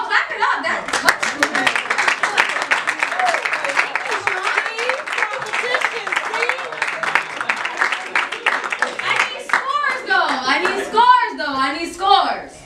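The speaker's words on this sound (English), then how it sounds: "Yo, clap it up." Audience at a spoken word poetry event clapping loudly right after a poem, with laughter, whoops and a host's voice cutting through toward the end.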